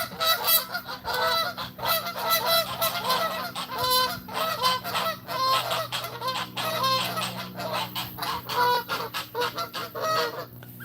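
Bar-headed geese shut in an enclosure honk loudly and continuously, a dense overlapping chorus of nasal calls close by with no talking.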